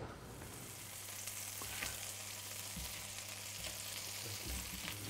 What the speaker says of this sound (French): Là, je suis en train de cuire des pommes.